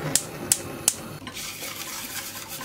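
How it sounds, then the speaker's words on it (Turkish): Three light clinks of a spoon on a pot come before a soft continuous scraping as a pudding mixture of milk, flour, sugar and cocoa is stirred while it cooks. The sound is quiet and close, with no talk. "Karıştırarak pişiriyorum."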